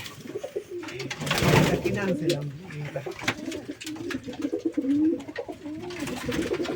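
Pigeons cooing in a hobby pigeon farm, repeated soft throaty coos rolling on through the clip, close by, with people talking intermittently over them and a brief louder rustle near the start.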